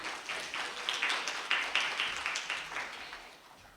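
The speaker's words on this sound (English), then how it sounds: "So, huge round of applause for her." An audience applauds a speaker at an elections presentation: steady, dense clapping held at an even level for several seconds, then tapering off slightly toward the end, with no voices over it.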